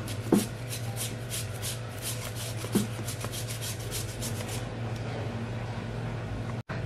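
Vegetables grated on a hand grater for bakwan, steady rhythmic rasping strokes close by, slowing then stopping near the end, over a constant low hum.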